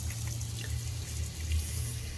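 Water rinsing off a car washed with a ceramic SiO2 hybrid shampoo, a steady hiss of spray and running water, close and continuous without a break and with no talking.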